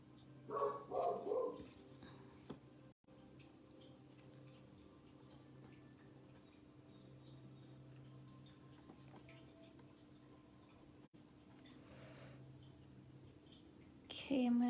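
A dog barks several times inside a house at the start, with faint ticking and scattered small sounds afterward, plus a brief noise near the end.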